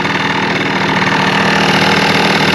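Close and loud, the early Honda Live Dio ZX scooter's engine runs steadily through its loud muffler, a continuous rough idle with a faint rattle.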